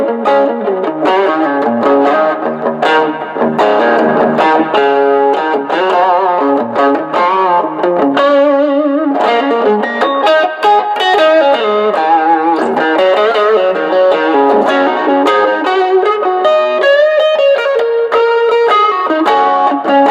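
Electric guitar in the neck pickup position played through an overdrive pedal on a pedalboard, with the delay switched off, giving sustained, distorted chords and melodic lines that ring loud and continuous throughout.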